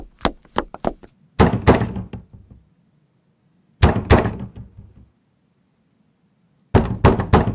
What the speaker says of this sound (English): Who knocks at the door?